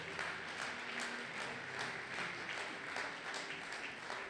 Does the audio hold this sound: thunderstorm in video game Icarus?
no